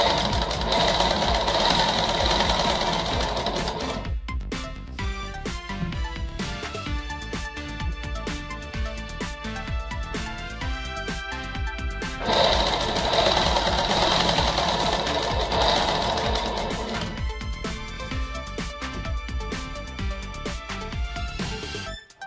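A sewing machine runs steadily while stitching a petticoat seam, its fast mechanical whirr continuous and close, pausing briefly around four and twelve seconds before resuming at full pace.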